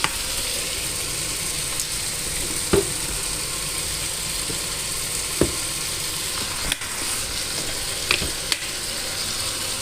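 Garlic ginger paste sizzling and frying in a pan for Irani mutton biryani, a loud steady crackling hiss with occasional stirring clinks, no talking over it.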